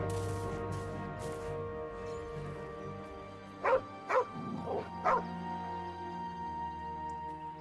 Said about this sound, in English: there's actually a dog companion that you can get named Scratch